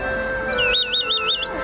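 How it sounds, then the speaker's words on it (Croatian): A warbling, bird-like whistled trill rises and falls in quick repeated waves for about a second, standing out over a steady outdoor background hum at a family multi-sport event. "Tako ptice sviraju."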